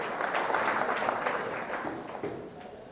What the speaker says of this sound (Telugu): ఒకసారి అమ్మాయికి చప్పట్లు కొట్టండి, గట్టిగా కొట్టండి, గట్టిగా కొట్టండి